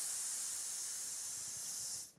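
A voice imitates air hissing out of a tire with a steady, faint "sss" held for about two seconds and then cut off.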